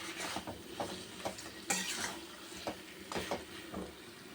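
Pangas fish stir-fried in spice paste, with a spatula scraping and knocking against the pan in irregular strokes over a soft, steady sizzle.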